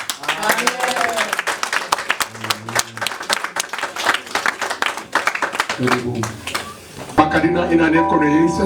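Rhythmic clapping from a church congregation runs under voices calling and singing, near and loud, ending with a burst of sung voices.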